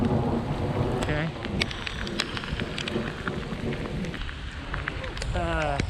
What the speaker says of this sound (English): Sometimes it's a rainy storm.